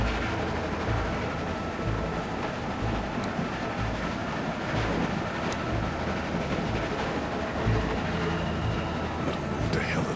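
A moving train in The Walking Dead video game rumbles steadily with low rhythmic clatter and rolling hum throughout, continuous and moderately loud, with faint voices under it.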